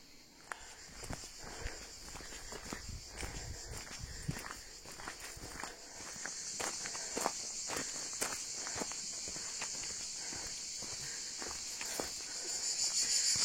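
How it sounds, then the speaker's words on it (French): Cicadas buzz steadily in the background in the Verdon gorges of Provence, rising louder partway through, with crunchy footsteps on a path throughout. "Les cigales. Trop bien."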